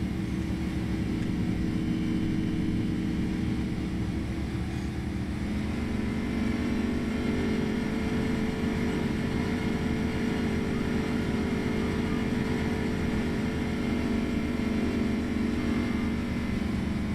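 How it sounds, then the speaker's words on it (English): A car in Way of the Hunter 2 drones steadily, its engine stuck in a low gear and holding a high, unchanging strained pitch that never shifts; continuous and fairly loud with no talking. "This car sounds like it needs to shift gears. Like it's stuck in 2nd gear or 3rd gear or something."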